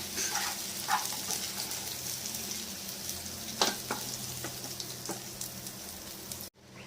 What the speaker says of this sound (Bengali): আলুগুলো লাল করে ভেজে নিলাম